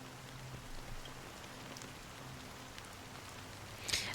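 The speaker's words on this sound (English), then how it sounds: "Amidst the fine drizzle of black rain" Fine, steady black rain in a video game patters softly in the background, a faint continuous hiss with a brief brighter splash near the end.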